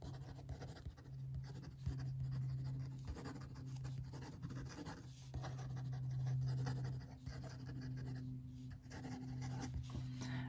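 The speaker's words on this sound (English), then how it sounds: "pull the pen across the page a bit more" An extra fine nib fountain pen scratching steadily across paper in soft, continuous strokes with brief pauses, close and quiet over a low background hum.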